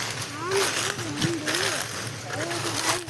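Water rushes and splashes steadily as it flows into an open farm field where lentils and mustard have been cut, with voices faintly present throughout.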